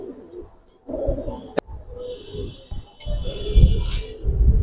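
Silver pigeons in a loft give soft, low coos close by. Scuffling and handling noise runs underneath, and one sharp tap cuts through. Higher chirps come and go.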